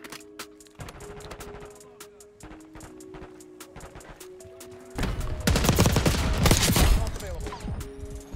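QPR 90 assault rifle in Black Ops 6 fires rapid bursts and sustained automatic volleys, loud and close, with game sounds and someone talking over the shooting.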